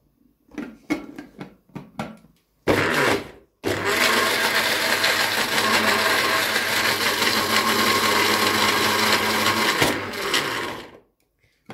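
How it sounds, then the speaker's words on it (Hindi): A countertop blender whirs loudly and steadily for about six seconds as it purées banana and dates for a milkshake, after a few short pulses and clunks at the start. "बिल्कुल इसको अच्छे से तीनों चीज़ों को ब्लेंड करना है"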